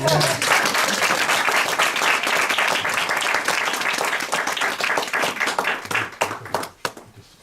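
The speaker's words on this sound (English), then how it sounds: "How about another round of applause?" An awards ceremony audience claps in a sustained, dense round of applause that fills the room, then thins into scattered claps and fades near the end.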